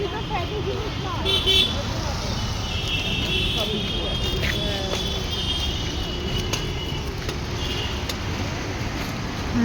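Steady street traffic roars around someone crossing a road near a school, with engines rumbling and occasional horn toots, loud and continuous under nearby voices.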